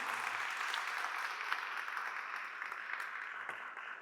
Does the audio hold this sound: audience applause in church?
yes